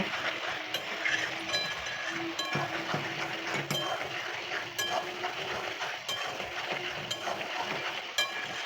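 Chicken frying and being stirred with spices and Kashmiri chilli powder in a pan, with a steady close sizzle and repeated scraping and clinking of a utensil against the pan throughout.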